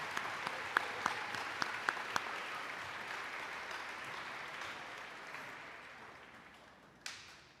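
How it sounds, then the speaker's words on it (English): Audience applause for 8th grade promotion students at a middle school ceremony. It opens with a few sharp, distinct claps and settles into a broad, sustained round of clapping that slowly fades, with one last burst near the end. "And one more round of applause for all of our 8th grade promotion students."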